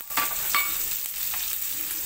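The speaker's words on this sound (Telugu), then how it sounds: "పోపు వేగాక ఉల్లిపాయ ముక్కలు" Onion pieces fry in a pan of hot oil after the tempering spices, making a close, continuous sizzle broken by a few light stirring scrapes, with no speech.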